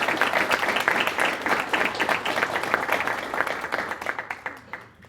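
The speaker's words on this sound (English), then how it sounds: "I would like for everyone to give both of the candidates a round of applause" A debate audience for a West Virginia State Senate District Six race applauds the two candidates, with dense, steady clapping that fills the room and then thins and fades toward the end.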